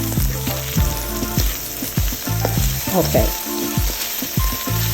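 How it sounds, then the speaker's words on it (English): Egg scrambling in a hot frying pan for chicken fried rice, a steady close sizzle with stirring scrapes over background music, and a brief spoken word. "Once the egg firms up just a little bit, I'm going to start mixing it, scrambling it."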